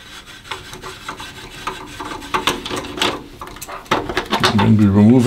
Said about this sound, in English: we have to open the case. There are two screws on the rear side.